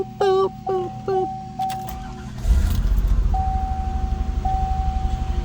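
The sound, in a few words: 1989 Buick Reatta engine running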